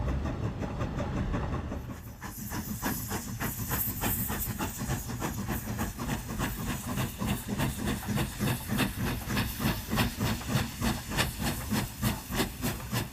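A steam locomotive in China hauls a train of loaded coal cars, with rhythmic steam chuffing and hissing that quicken into a steady, pulsing beat alongside rumbling rail noise.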